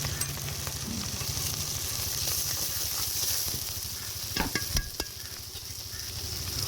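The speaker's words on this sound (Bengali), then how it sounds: "এবারে মাংস রান্না করার জন্য তেলের মধ্যে পেঁয়াজ দিয়ে দিচ্ছি" Sliced onions fry in hot oil for mutton biryani, giving a steady close sizzle with occasional clinks and scrapes of stirring near the end; no talking.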